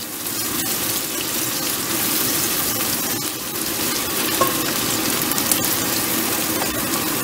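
Tomato added to a hot pan, giving a steady, loud sizzle and crackle that holds evenly throughout, with faint scraping as it settles and no talking.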